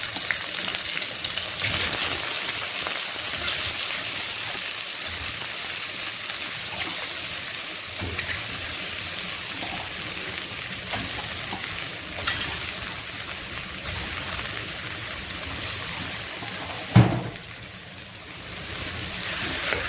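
Beef lungs frying in ghee melted with butter and mastic, a steady loud crackling hiss running throughout, with one sharp clatter near the end before the sizzle dips briefly.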